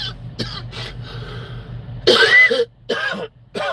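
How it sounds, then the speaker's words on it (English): A man on a porch in the cold coughs harshly a few times, with a throat-clearing rasp, loud and close against a low steady background hum. "My bad, it's cold. I got a cough."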